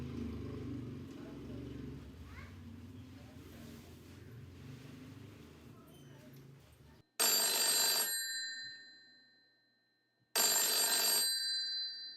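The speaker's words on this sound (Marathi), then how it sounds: "सुमित्रा अगं जोशांचा फोन आहे." An old electronic telephone rings in two loud bursts of about a second each, separated by a gap, after a stretch of low rumbling engine-like background noise.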